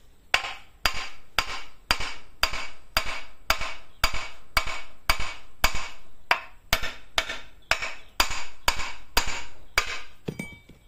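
Hammer blows tapping on an electric motor part during repair, about twenty sharp metallic strikes in a steady, even rhythm, close and clear with no talk.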